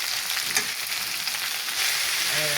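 Snail noodles stir-fried and mixed with Maggi masala in a hot pan, giving a steady close sizzle with occasional stirring clinks, loudest near the end.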